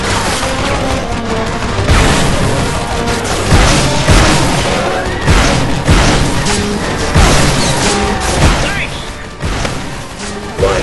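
Gunfire and explosions from the video game Fracture boom out in loud, repeated bursts and crashes, dense irregular impacts layered with game sound throughout.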